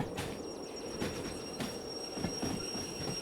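A long train rolling on rails in the video game Derail Valley, with repeated wheel clacks roughly every half second, metallic squeal and a steady rumble, close and continuous.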